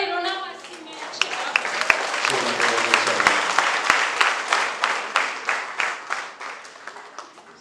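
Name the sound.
applause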